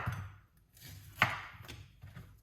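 A kitchen knife chops through pineapple on a cutting board in a home kitchen, giving a few separate crisp thunks spaced about half a second apart, close and clear.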